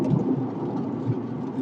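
Steady rain with low rumbling thunder during a severe thunderstorm in northeastern Colorado, a continuous wash of noise with soft low booms, no voices.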